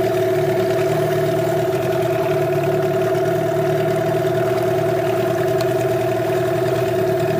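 A new Parsun T15BMS 15 hp outboard boat motor runs at a steady low speed during break-in, a constant close drone with a firm, even tone and no voices.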